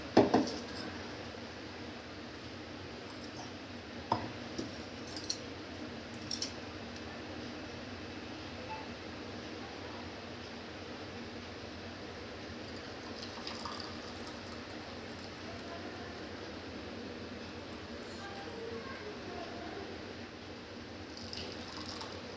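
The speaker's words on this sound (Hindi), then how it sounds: "अभी मैं डालूँगी ग्लास में" Hot milk with turmeric and ginger, just taken off a low flame, poured into a glass in a home kitchen, a faint continuous liquid trickle with small clinks near the start.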